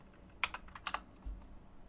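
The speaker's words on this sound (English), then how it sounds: "When I press the 2 key" Computer keyboard keys pressed a few times in quick, close succession, crisp and fairly quiet with no voices, as when opening an inventory with a number key in a game editor.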